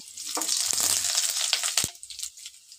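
Chopped onion drops into hot oil in a wok and sizzles, a bright frying hiss with a few clinks and stirring sounds, fading after about two seconds.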